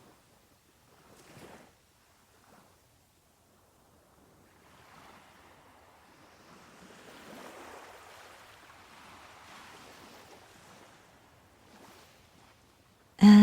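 Ocean waves wash gently onto a sandy beach, distant and soft. A brief early swell gives way to a longer, broader surge that slowly fades, then a sudden loud burst at the very end.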